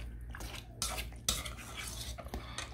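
A utensil stirs and mixes chicken pot pie filling in a pot or bowl, giving repeated scraping and clinking strokes at close range, quiet overall, with no talk.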